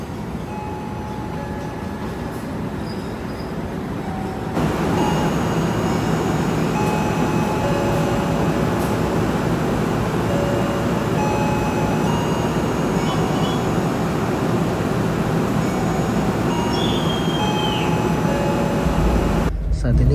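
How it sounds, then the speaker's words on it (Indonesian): Steady rumble and rattle of the Blambangan Express passenger train rolling along after leaving Semarang Tawang station, Indonesia, heard from inside the carriage, with a continuous hum and faint squeals. "Saat ini kereta udah berangkat dari stasiun Semarang Tawang."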